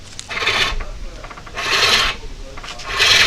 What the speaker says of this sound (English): just look for really fine, small shavings to come off on this side of the bowl here